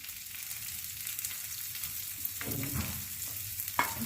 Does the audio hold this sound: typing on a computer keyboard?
no